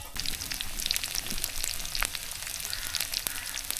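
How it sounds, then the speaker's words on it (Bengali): Onions frying in hot oil in a wok, a continuous near sizzle dotted with sharp pops and crackles throughout, no talking. "ভাবি গরম তেলের ভেতরে দিল পেঁয়াজ"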